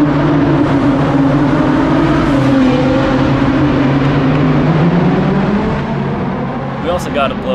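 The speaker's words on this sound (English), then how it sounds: "We also got a blow-by outside, the Hellcat leading the way. Listen to that supercharger whine." A Dodge Hellcat leads a line of supercars past outdoors, its engines loud and steady with a rising supercharger whine before the sound eases near the end.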